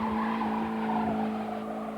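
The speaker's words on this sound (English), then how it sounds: "Stealing cars for thrills hooks kids as young as 11." A stolen car skids hard during joyriding, its tires screeching in a loud, sustained smear of noise over a steady engine drone that holds for the whole stretch.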